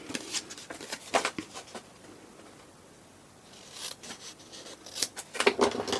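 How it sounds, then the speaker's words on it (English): Scissors snipping through card along score lines for a box envelope, several short bursts of close, crisp cutting separated by a quiet pause in the middle. "And then we're just going to cut them two score lines, cut up them."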